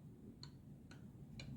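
A Spirax valve sound effect on an Accurascale 'Isle Of Mull' model locomotive ticking over after engine shutdown: four faint, sharp metallic ticks spaced irregularly over a low background hum.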